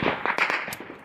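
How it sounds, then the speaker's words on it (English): Gunfire in a firefight between Marines and insurgents a few hundred meters up the road, a quick burst of sharp cracking shots echoing loudly, with no talking. "A firefight breaks out between insurgents and another Marine unit a few hundred meters up the road"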